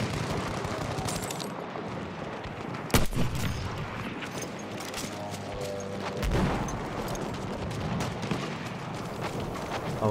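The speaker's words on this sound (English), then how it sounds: "Machine gun, one of theirs." Battlefield 1 combat with machine gun fire: dense, continuous bursts of gunfire and distant explosions fill the scene, with one sharp, loud blast midway.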